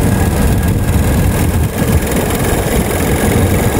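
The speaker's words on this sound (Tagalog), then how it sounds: "Umandar yung compressor natin." A Gree inverter air conditioner compressor running close by, a loud steady low hum and rumble with constant vibration.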